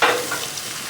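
Thick slab bacon sizzling on a gas grill, a steady loud hiss of fat crackling throughout, close and continuous with no voices.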